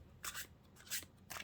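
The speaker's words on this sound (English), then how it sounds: "let's get your cards and give them a shuffle" Oracle and tarot cards are shuffled in three quick, soft bursts of riffling, faint and close with brief pauses between.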